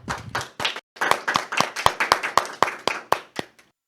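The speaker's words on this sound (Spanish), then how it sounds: "recibimos con un fuerte aplauso" Hands clap to welcome a musician on a Christian faith program: close, sharp claps in a quick, fairly regular rhythm that stop abruptly.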